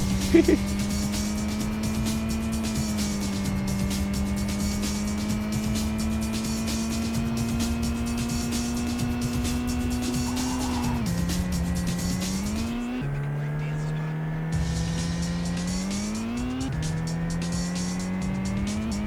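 Continuous engine drone of a drifting car in the video game Super Drift 3D, steady throughout with pitch dropping and climbing as it shifts, a faint squeal rising above, with game music or effects underneath.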